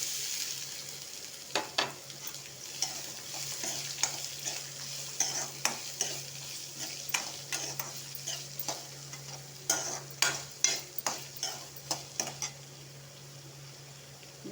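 Onions sautéing in a kadai give a soft continuous sizzle, punctuated by regular sharp scraping strokes from a spatula that come more quickly toward the end, heard close up with no talking.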